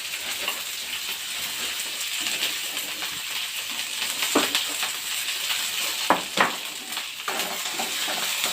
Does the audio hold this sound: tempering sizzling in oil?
yes